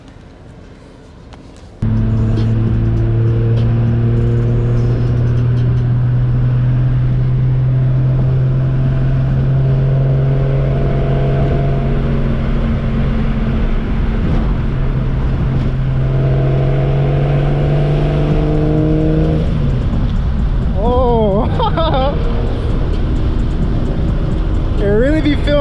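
A turbocharged BMW E36 M3 with an S50 engine drives through city streets, its steady engine drone holding close and loud before a quick series of revving surges near the end.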